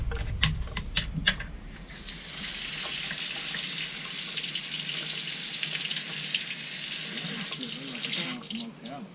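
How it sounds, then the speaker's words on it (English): A steady stream of muddy water gushes and splashes from a Dodge truck radiator, running continuously for several seconds after a few sharp clanks at the start. "that ain't nothing but muddy water coming out of it."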